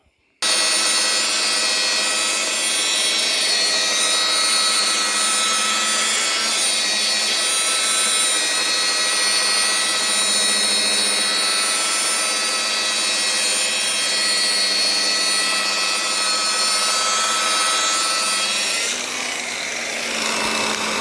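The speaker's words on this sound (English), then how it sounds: "I'm just going to buff it over with the rest of the coarse grit" A power tool buffing cast resin with coarse grit whirs in a loud, unbroken drone for about twenty seconds, with a steady abrasive hiss over the motor hum, then briefly eases and shifts pitch near the end.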